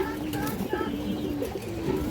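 Female pigeons of a khaki type, offered for sale, coo softly in a few short low calls, faint beneath someone talking nearby.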